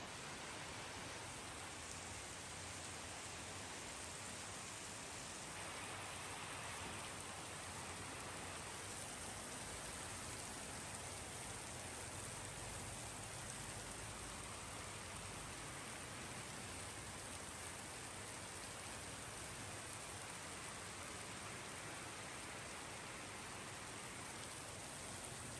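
Heavy tropical downpour on a flooded street, a dense, steady roar of rain that stays loud and unbroken throughout with no talk.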